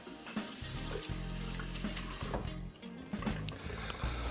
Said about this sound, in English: I don't know what was in here, but I'll rinse it out